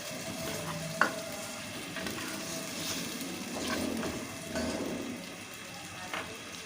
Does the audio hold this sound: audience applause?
no